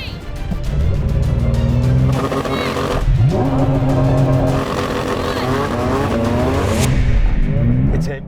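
A BMW M2 CS and a Porsche GT4 RS launch together from a standing race start, their engines roaring loud and close with rising sweeps through the gears and brief tire squeal.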